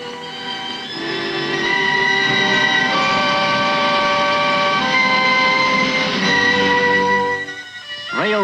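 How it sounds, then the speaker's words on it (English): A freight train on a specially laid railway hauls limestone away from the quarry pits, a loud, sustained rumble and clatter of wagons with steady tonal whine, fading and shifting near the end. "Railways specially laid from the pits carry away the limestone to be made into cement"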